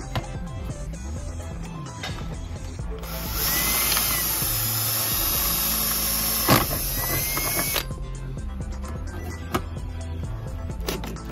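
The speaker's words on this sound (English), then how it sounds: "drill a 3/4 inch hole, put in the sensor, clip it on" Power drill cutting a 3/4 inch hole in the intake of an OBS Chevy truck for an air temperature sensor, a loud steady whine for about four seconds between quieter tool handling and shop noise.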